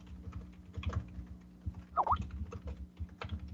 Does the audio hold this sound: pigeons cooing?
no